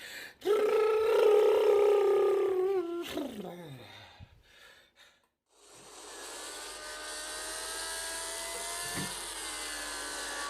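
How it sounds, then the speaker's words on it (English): A 1963 Formula 1 car engine in the racing game Project Cars 2, racing at Silverstone, rising and falling in pitch as it passes, cutting out briefly, then returning as a steady high-revving drone. "That may, or may not be, the real engine sound that you can hear right now."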